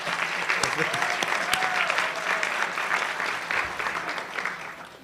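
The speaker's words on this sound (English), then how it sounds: "can we give a round of applause to the people who've known me from the beginning?" Audience applause honoring the speaker's parents at a National Press Club luncheon for a guest speaker, a dense, sustained round of clapping with faint voices mixed in, gradually easing toward the end.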